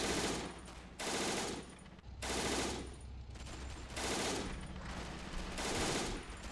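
Bursts of gunfire and explosive anti-tank strikes aimed at a small jeep in Men of War: Assault Squad 2, several long, rattling volleys separated by brief pauses, fairly quiet and distant.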